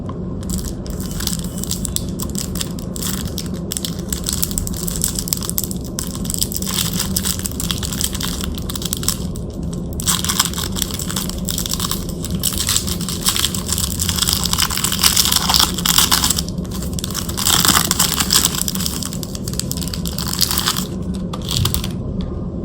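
A new tarot card deck is unwrapped and unpacked, with continuous close crinkling, rustling and crackling of packaging and handling noises that keep going for more than twenty seconds.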